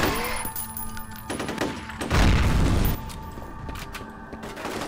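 Gunfire in the shooter game F.E.A.R.: a loud, close burst of automatic fire stands out for under a second in the middle, with quieter shots and game noise around it.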